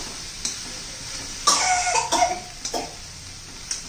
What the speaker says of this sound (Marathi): ठसका येतोय मिरचीचा